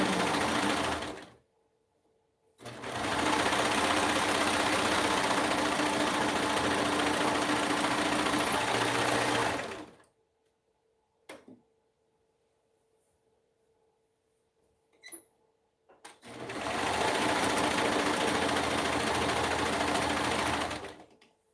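A sewing machine stitches the crotch seam of a pair of pants in three long, loud, steady bursts of rapid mechanical whirring, with quiet pauses and a few faint clicks between runs.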